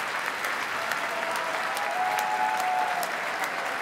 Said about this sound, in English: let's give a rousing round of applause to those still standing, honored between 1976 and